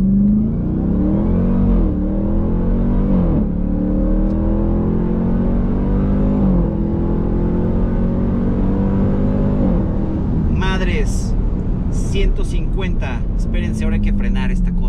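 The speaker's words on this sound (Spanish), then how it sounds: "Vamos a hacer una aceleración, ¿por qué no?" Dodge Durango SRT Hellcat V8 launching hard, its engine note climbing through gear-shift steps in a loud, continuous rising roar, with a higher whine and tire or wind noise toward the end.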